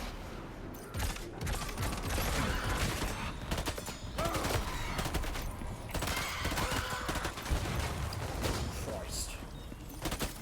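Rapid, heavy gunfire in the video game Death Stranding 2, continuous overlapping bursts and blasts filling the scene, with a player's voice talking over the shooting.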